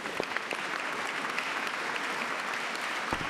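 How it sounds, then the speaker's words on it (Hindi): A studio audience on a Hindi horror TV show bursts into steady, dense applause, a continuous wash of clapping at even loudness throughout with no voices over it. "जोरदार तालियां।"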